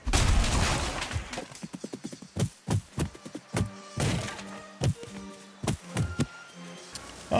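An axe chops timber in the Valheim video game, striking in a rapid series of crisp, hollow thunks, a dozen or more irregularly spaced hits with a crash of falling wood at the start.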